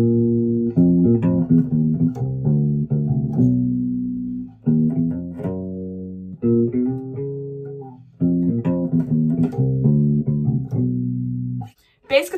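Electric bass guitar plugged into a power amp, playing a steady run of deep, sustained notes with short pauses between phrases, loud and close, no talking.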